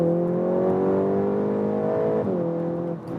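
A Volkswagen Golf GTI Clubsport 8 in Nürburgring drive mode gives a steady, loud, droning engine note from inside the car as it accelerates, then a quick drop in pitch as the gearbox shifts, with the tone settling briefly before fading.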